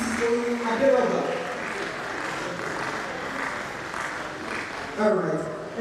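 Audience applause at a registry lecture, a steady wash of clapping from a crowd in a hall, with voices speaking over it and a few louder swells near the start and end.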